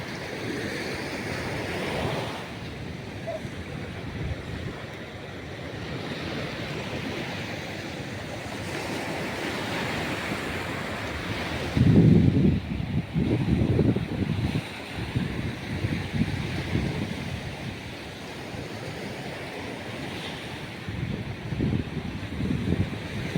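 Big ocean waves break on a shore where fishermen head out, making a steady roaring surf with a heavier crashing surge midway and gusts of wind noise on the microphone. No one speaks.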